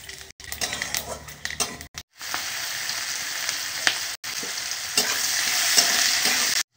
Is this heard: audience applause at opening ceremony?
no